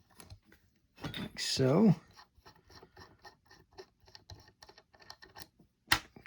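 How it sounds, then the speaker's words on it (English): Small metallic clicks and ratcheting taps come from a J.A. Coxe 325L fishing reel as its handle nut is unscrewed, a busier rattle near the start and a sharp click toward the end, with someone speaking briefly. "I'm going to start off by removing the handle nut."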